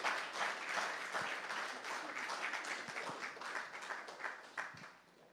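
An audience at a French-language church gathering applauds for several seconds in a dense, steady wash of clapping that gradually tapers off.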